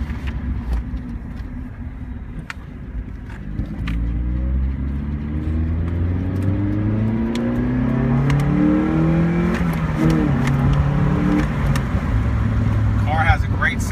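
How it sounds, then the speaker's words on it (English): A 2001 Mazda Miata engine with a stock muffler runs steadily and revs up, its pitch climbing in repeated sweeps, loud and close, with brief clicks over the drone. "Car has a great sound to it."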